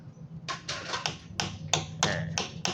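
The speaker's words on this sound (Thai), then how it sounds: "เอาตูดไขควงเคาะป๊อกป๊อกเบาๆครับ" Light taps from the butt of a screwdriver on the exhaust pipe of a Yamaha Fino scooter, about eight short sharp knocks in a loose, uneven rhythm, close and clear over a faint low hum.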